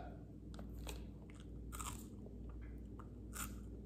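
Crunchy homemade potato chips made from unpeeled potatoes, bitten and chewed close up, giving several sharp crisp crunches over a steady low background hum.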